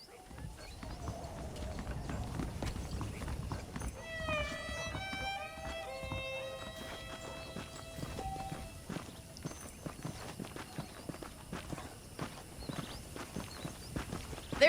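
Horse hooves clop steadily at a walk in Red Dead Redemption, with a short musical chime and background game ambience; no speech.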